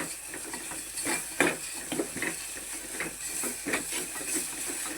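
Misal masala sautéed in oil in a pan until the oil separates: a steady close hiss and sizzle, broken by repeated spatula scrapes and stirring knocks at an uneven rhythm.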